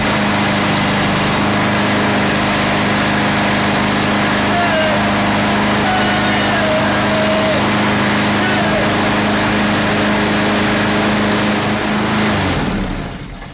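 A Honda small engine fitted with an aftermarket carburetor runs at a steady idle, droning loudly and evenly up close before cutting off near the end, with a voice talking over it.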